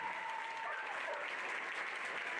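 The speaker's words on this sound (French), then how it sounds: "Vous pouvez les applaudir bien fort." Faint, distant applause from a crowd at an equestrian club prize-giving, steady dense clapping throughout with murmured voices underneath.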